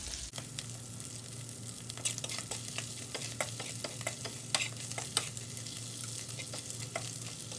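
Herring and eggs frying in a pan for Haitian-style eggs, a steady close sizzle running throughout with sharp scattered pops and crackles spiking over it.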